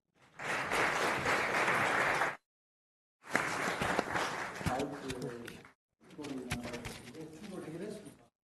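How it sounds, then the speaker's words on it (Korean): Audience at a university business forum applauding to welcome a national university president, steady crowd clapping in three stretches with short gaps, the later parts fading under people talking. "뜨거운 박수로 환영해 주시면 고맙겠습니다."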